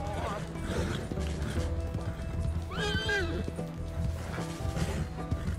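A horse in the video game Red Dead Redemption II lets out a loud whinny midway, over steady clip-clop of hooves and background game noise, with someone talking early on.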